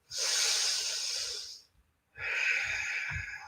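Slow, steady breaths during a yoga flow: a long airy exhale, a brief pause, then another long breath, close and alone with no talk.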